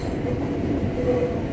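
Commuter train at Manggarai station in Jakarta, a continuous low rumbling roll of rail cars with a faint metallic wheel squeal, steady and fairly close.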